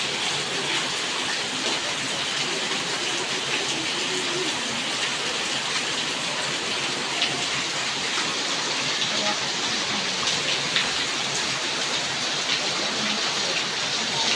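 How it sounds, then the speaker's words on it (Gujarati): Heavy monsoon rain pours down steadily through the night, a dense, even hiss of downpour on surfaces filling the whole stretch without a break. "બહુ વરસાદ આવે છે આખી રાતનો શરૂ છે"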